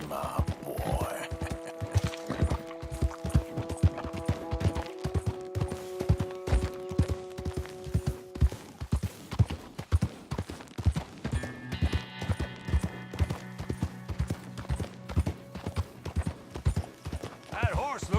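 Horse hooves clip-clop steadily at a walking pace in Red Dead Redemption 2, with tack creaks and an occasional whinny over background game music, moderately close.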